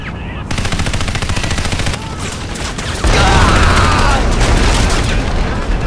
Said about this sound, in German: Verdammt, die schießen uns alle ab.